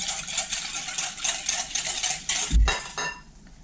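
A spoon clinks and scrapes steadily around a bowl of warm milk, with a dull knock near the end.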